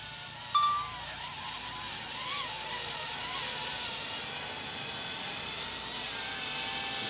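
A DJI Avata drone landing on a mat, its high whirring propeller buzz steady and close throughout, with a brief sharper bump near the start.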